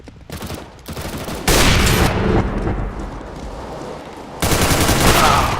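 Loud gunfire in the video game Counter-Strike: Global Offensive, with rapid bursts of shots swelling into heavy sustained fire, then a brief dip before another intense volley.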